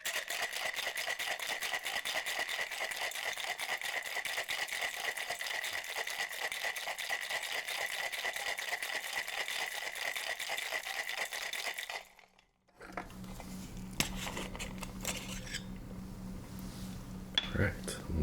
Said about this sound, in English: We'll give it a good shake.